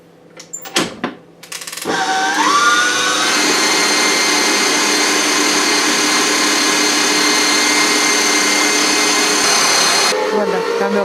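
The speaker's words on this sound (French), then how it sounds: "On va faire d'abord monter les blancs avec le sucre." An electric mixer whips egg whites and sugar into meringue. A few clicks and knocks come first, then the motor starts and whirs loud and steady up close for several seconds before cutting off abruptly.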